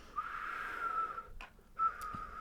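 Someone whistles a steady, sustained note alone, then a brief breathy break, then a second shorter whistle, close and fairly faint.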